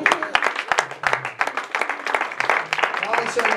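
A church congregation claps in a dense, irregular burst. Voices are mixed in and the applause stays moderately loud for a few seconds.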